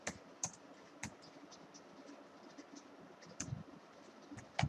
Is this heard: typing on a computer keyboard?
yes